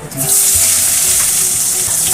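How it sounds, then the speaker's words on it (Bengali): Garlic sizzles loudly and steadily in hot oil, a constant close frying hiss with no talking. "তেল দিয়ে দিচ্ছি দিচ্ছি রসুনটা একটু ভাজা ভাজা হলে দিয়ে দিব পেঁয়াজ"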